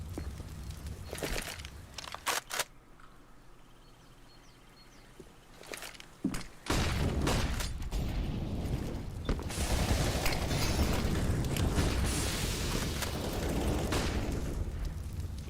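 A grenade blast in Counter-Strike, a deep booming explosion that rises sharply and leaves a long rumbling roar, preceded by clicky gear handling, footsteps and scattered gunshots.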